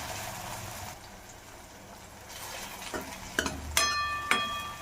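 Green chili frying in hot oil with softened onions in a pan, a steady sizzle broken by several sharp clinks and scrapes of a spoon stirring and pressing against the metal, close and moderately loud.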